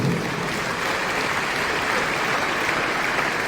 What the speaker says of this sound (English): Let us clap for our Governor Hope.